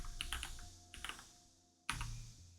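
Keys clatter on a computer keyboard in short bursts: a quick run of taps, a second cluster, then a sharper final press, all close and fairly quiet with nobody speaking.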